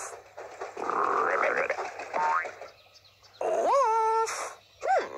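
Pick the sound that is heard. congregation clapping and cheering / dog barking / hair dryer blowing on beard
dog barking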